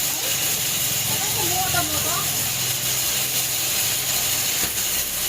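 A machine grinds corn or rice with a steady mechanical rattle and hiss that holds close and constant, with a faint ratcheting texture throughout.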